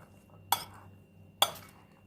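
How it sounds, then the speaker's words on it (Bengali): Olive-oil-dressed salad is mixed in a bowl, producing two sharp, close utensil clinks about a second apart over a quiet background. "এখন আমি এটাকে খুবই ভালো করে মিশিয়ে নেব।"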